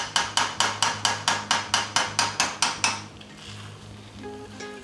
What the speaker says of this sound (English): I'm gonna let it fry up just a little bit.